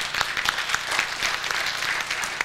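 A crowd applauds at an Indo-American Kashmir Forum gathering: steady, moderately loud, dense clapping that holds evenly throughout, with no voices.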